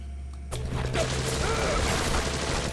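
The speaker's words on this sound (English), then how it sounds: "This is the elevator." Elevator machinery in the video game BioShock kicks in abruptly after a low hum, grinding and clanking steadily with a mechanical ratcheting rumble that holds to the end, with a faint voice behind.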